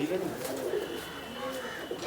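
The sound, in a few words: flying pigeons cooing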